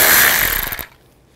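A power tool with a 10 millimeter socket spins out bolts on a 2007–2016 GMC Acadia during radiator removal, a loud buzzing whir lasting under a second before cutting off abruptly.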